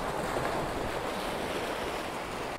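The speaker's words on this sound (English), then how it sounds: "There seems to be like a few big waves, like this one." Big ocean waves crash and roll continuously onto the shore, a dense steady roar of surf mixed with wind rumbling against the microphone, with no pauses in the wash.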